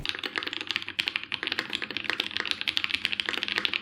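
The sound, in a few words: mechanical keyboard typing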